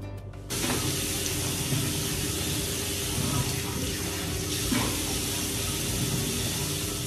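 Tap water running steadily into a sink during face washing in the morning, a continuous close splashing rush that starts abruptly after a brief quiet moment and carries on alone.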